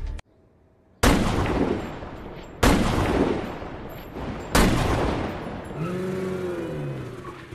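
A sniper rifle in a film fires three sharp, loud shots at even intervals, each with a long echoing tail, after a brief silence. A fainter tonal sound follows near the end.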